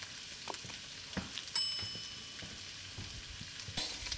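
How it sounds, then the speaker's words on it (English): Garlic sautés in a pan for Mongolian ground beef noodles, a steady soft sizzle broken by occasional light clinks and scrapes of a utensil, with no talking. "Let the garlic cook some."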